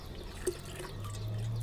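Diluted tea water poured onto potted hibiscus and rose plants in a terrace garden, a quiet, brief liquid trickle with a small drip sound and no speech.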